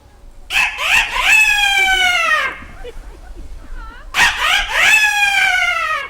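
A rooster crows loudly and close by, twice: two long, rising-then-falling cock-a-doodle-doo calls separated by a short pause.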